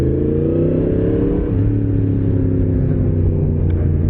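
A Yamaha MT-10SP motorcycle engine rumbles steadily while riding, a loud, close low-pitched drone with a slight rise in revs partway through, no talk.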